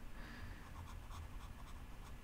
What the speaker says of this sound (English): Let's draw a keyboard real quick.